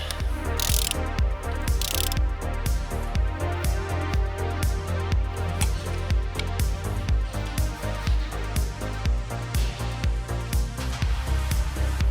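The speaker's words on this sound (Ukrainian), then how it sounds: "Затягуємо зараз ці трубки, а вже потім будемо затягувати е, болти." A ratchet wrench clicks steadily and rapidly, close up, while fuel system pipes are tightened on a Skoda Octavia 1.6 TDI. Occasional metallic clanks break in over the continuous ratcheting.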